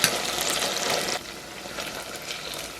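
Loud hissing sizzle of eggplant dropped into hot oil in a pot, strongest at first, then settling into a softer, steady frying crackle.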